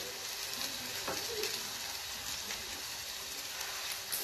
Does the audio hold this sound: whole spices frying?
yes